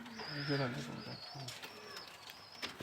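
Pakistani high flyer pigeons imported from Kuwait coo softly in a few short bursts close by, mixed with light chirps, while someone talks over them.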